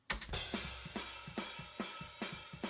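Soloed hi-hats from a metal drum mix, blending close and overhead mics, tick and wash in a quick, even groove of sharp bright hits with low drum bleed beneath, played alone.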